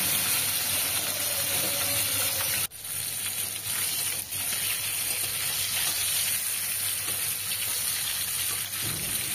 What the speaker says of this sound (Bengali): সেই কারণে একটু বেশ কড়া করে মাছগুলো ভেজে নেব